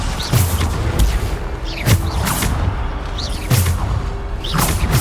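Bombarda explosion spells from Hogwarts Legacy go off in a game fight, three heavy booming blasts spaced about a second and a half apart, each with a sharp thump and whooshing tail over a busy background.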